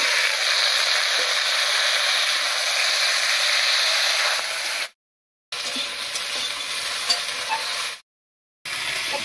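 Moringa drumstick pieces and potato hit hot oil tempered with cumin seeds and a bay leaf, giving a steady, dense sizzle while being stirred, broken by two short silent gaps.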